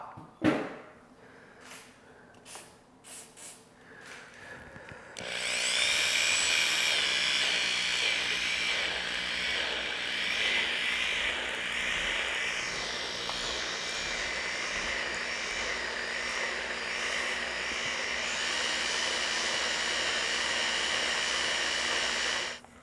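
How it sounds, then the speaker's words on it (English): Finish reamer cutting through a freshly pressed-in bushing bore on a crusty Ford V-8 engine block in a machine shop, a loud steady whirring, grinding drone that starts abruptly after a few seconds of scattered clanks and carries on close up without talk. "go through with a finish reamer and clean that bore up"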